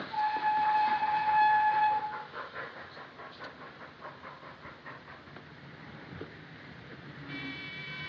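A train at a railway station blows a long steady whistle, then carriages clatter and rumble past with a rhythmic beat of wheels, and a second whistle sounds near the end.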